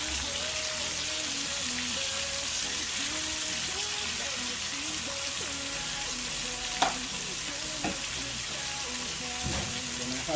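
Ackee fries in a pan, giving a continuous, close sizzle with occasional stirring knocks and scrapes against the pan.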